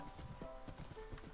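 Horse hooves clip-clopping in the Minecraft video game, a quick faint series of hoofbeats over a quiet background hum.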